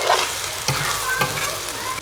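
Tomatoes stir-fried in a home kitchen, sizzling continuously with a couple of scraping stirs of the spatula, loud and close with no voices.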